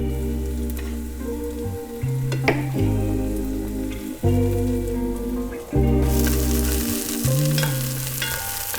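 Onions sizzle steadily in a pan for a summer fish stew, with occasional scraping stirs breaking through the constant close frying hiss.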